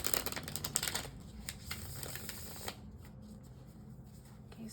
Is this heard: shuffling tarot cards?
yes